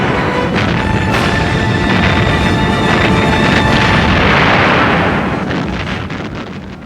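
Heavy shelling of Henderson Field on Guadalcanal by the 14-inch guns of the battleships Kongo and Haruna, a sustained rumbling barrage with booming blasts and dense, wind-like roar throughout, fading near the end.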